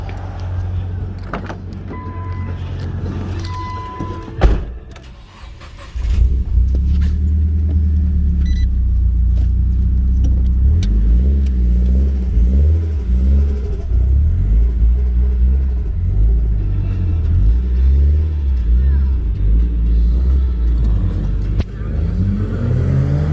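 A Nissan S15 Silvia rumbles steadily while cruising, its low engine drone continuous and close from inside the cabin, with a brief thump and lull early on before the drive settles into an even hum.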